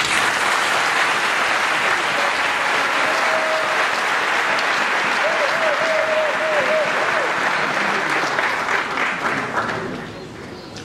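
Crowd at a Congolese opposition political rally applauding as coordination members stand to greet the assembly; sustained loud clapping with scattered cheers and voices in the crowd, tapering slightly near the end.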